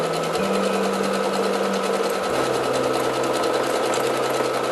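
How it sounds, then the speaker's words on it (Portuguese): Sewing machine stitching fabric, a fast continuous mechanical whirring with a steady rapid needle rhythm, close and uninterrupted throughout. "levanto o calcador, viro o tecido e continuo a costura"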